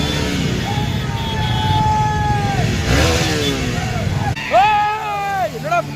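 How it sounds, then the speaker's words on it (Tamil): Motorcycles revving and accelerating on a busy road on New Year's night near a Coimbatore mall, with rising and falling engine whines, a horn-like tone, crowd noise and people talking throughout. "ஏன்னு கேட்டா வண்டி முறுக்குதுடா"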